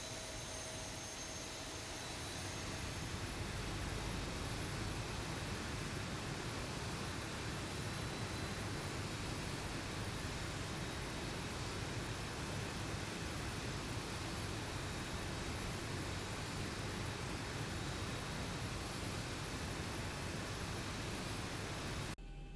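Boeing 737-800 jet engines run steadily in the X-Plane 12 flight simulator, a dense, loud broadband roar with a faint high whine that swells early on and then holds constant throughout, with no voices.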